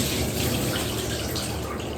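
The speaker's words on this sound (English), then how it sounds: "Doing this and then just pouring this into the bathtub." Water emptied from a dehumidifier tank pours steadily into a bathtub in a flat, a continuous close splashing rush that stays even for the whole short stretch, with no voices.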